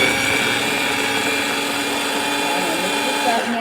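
Electric food chopper whirring as it chops imitation crab filling with a little water, a steady, close, loud motor drone throughout with slight shifts as the mixture thickens.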